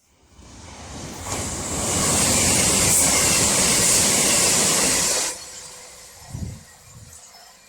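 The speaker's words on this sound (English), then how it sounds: "Again, it's the 221. I think it's a Super Voyager." A fast Class 221 Super Voyager train rushes past nearby as a loud, rising roar of wheels and air that holds for several seconds, then cuts off sharply, leaving quieter background sounds.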